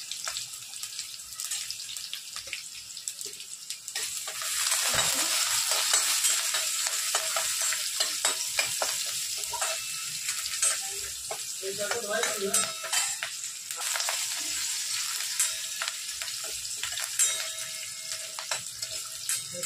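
Onion frying with asafoetida and curry leaves in a pan for rava idli, a loud continuous sizzle with repeated scraping stirs and a brief watery splash midway.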